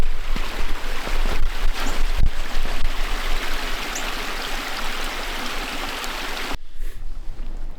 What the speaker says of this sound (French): Il y a une petite chute d'eau.